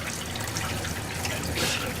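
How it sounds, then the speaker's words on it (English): Fresh water running into an RV gray tank, a steady hissing, splashing stream that keeps a constant level throughout and swells slightly near the end, with no one talking. "Gray tank, we're gonna just fill up the tank with some water."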